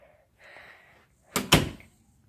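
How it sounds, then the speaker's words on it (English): Door closing: a faint creak or slide followed by two sharp, close knocks as the door shuts, with no talk. "Let's close the door."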